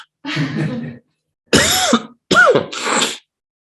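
Three harsh, close coughing bursts in quick succession, separated by brief silences, with no speech.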